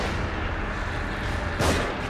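A single gunshot in the horror video game The Evil Within, one sharp loud burst late in a stretch of dense game ambience.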